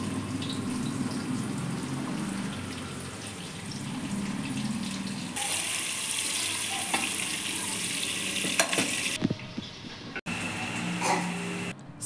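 Onions frying in oil with kasuri methi for a hotel-style vegetable pulao give a steady, close, loud sizzle with stirring scrapes throughout, the hiss brightening partway through, with no talking.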